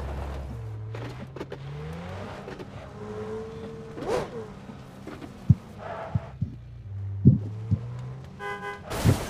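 A car in the mobile battle royale game New State Mobile hums steadily with engine noise, several short horn toots and a few sharp knocks near the end.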